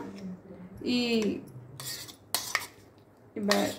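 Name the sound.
spreading vegetable sandwich filling mix onto bread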